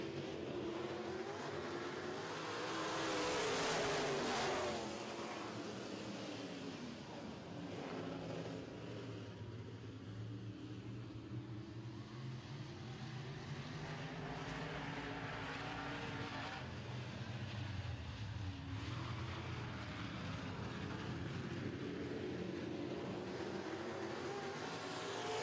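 Modified race cars roar off the start of a heat race on a slick dirt oval, a dense field of engines droning and rising together at steady loudness throughout.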